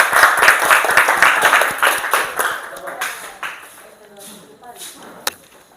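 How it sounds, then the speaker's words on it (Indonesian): A class of people clapping in steady applause, loud at first and gradually tapering off, with one sharp clap near the end. "berikan tepuk tangan"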